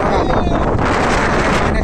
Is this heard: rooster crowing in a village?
no